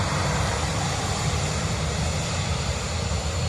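A Ryanair airliner arriving from Trieste at Dublin Airport gives off a loud, continuous engine roar and rumble, close and unbroken for a few seconds.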